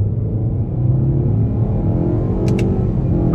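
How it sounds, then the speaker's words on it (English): A 2023 Nissan Altima SR pulling away in first gear under throttle with paddle shifters, a loud, steady low engine rumble and drone from inside the cabin, with a couple of brief clicks partway through. "we'll try out these paddle shifters. First gear on the gas."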